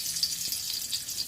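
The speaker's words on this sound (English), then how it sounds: "Then we're gonna start frying." Hot oil for frying marinated, salted fish sizzles with a steady, close crackling hiss while cooking mbongo tchobi.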